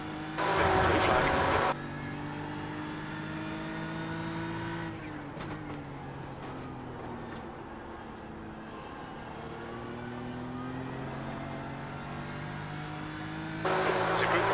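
GT3 race cars in a racing video game at Watkins Glen, engines droning steadily with shifting pitch as a group of faster cars closes in, a louder burst at the start and end.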